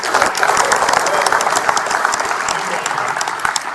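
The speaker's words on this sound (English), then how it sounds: "Give these guys a round of applause." An audience at a ServiceTitan panel claps steadily and loudly throughout, dense applause filling the whole moment without a break.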